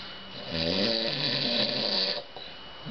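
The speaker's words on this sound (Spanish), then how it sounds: "me está roncando, pero se abre la boca, no sé si es la nariz que hace el ruido" A man snores loudly in one long, rasping breath with a throaty rattle, the snore filling most of the moment before trailing off into quiet.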